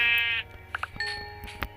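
A Minecraft sheep bleats, a wavering nasal call followed by a few shorter bleats and clicks, fairly close and clear with no talking.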